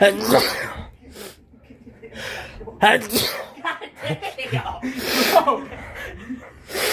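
A man sneezes amid lively talk and reactions from others, a short sharp burst standing out near the start and again midway, with gasps and chatter around it; he mentions being allergic to cats.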